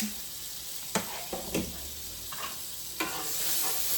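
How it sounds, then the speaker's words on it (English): Butter stirred into a skillet over browned chicken bits, a soft ongoing sizzle broken by several spatula scrapes and taps against the pan, fairly quiet. "So let's get some butter in there. Let's kind of stir that all up."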